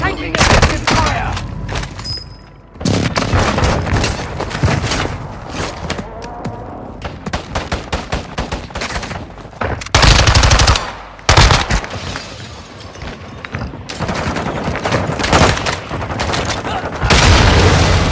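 Dense automatic gunfire and heavy bursts from a Warzone 2 match on Ashika Island, loud and nearly continuous with brief gaps, alongside in-game voice callouts.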